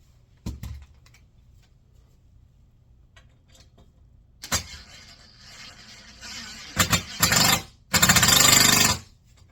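Short bursts of a power drill whirring, with scattered clicks and taps first, then several loud spins growing longer toward the end.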